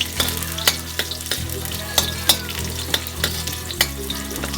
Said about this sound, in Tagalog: At isunod po natin ang onion o or sibuyas, bombay. Haluin lang po natin guys.